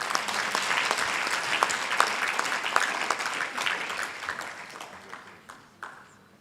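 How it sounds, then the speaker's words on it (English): Audience applause for an award winner at the Uganda Diaspora Convention 2025, dense and sustained clapping from a crowd that holds steady and then tapers off toward the end. "I thought that the clap would be louder for the winner."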